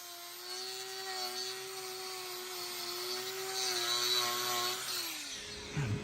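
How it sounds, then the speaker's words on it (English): Grinder working on exceptionally hard cow hoof horn: a high-pitched, steady whine with a slightly wavering tone, close and fairly loud, that winds down and stops near the end. "The pitch of the noise the grinder's making is high, and that's because this hoof horn is exceptionally hard."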